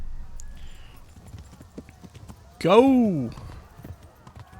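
Horse cantering in the medieval video game Kingdom Come: Deliverance, with soft hoof clip-clops under a voice and a loud, falling neigh that rises suddenly in the middle.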